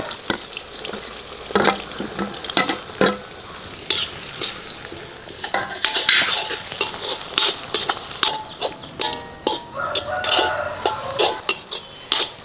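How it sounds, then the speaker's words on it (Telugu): Chopped onions, cumin seeds and green chillies fry in hot oil in a pan, a steady sizzle broken by repeated scraping stirs of a spoon against the metal, close and continuous. "ఈ ఉల్లిపాయలు బ్రౌన్ కలర్ వచ్చే వరకు బాగా వేయించుకోవాలి"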